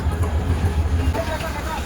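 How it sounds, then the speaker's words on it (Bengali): Pārābat Express passenger train pulling into a Dhaka railway station platform at night, a steady low rumble of rolling cars under crowd chatter, with faint squeals near the end. "অবশেষে আমাদের কাঙ্ক্ষিত ট্রেন চলে আসছে।"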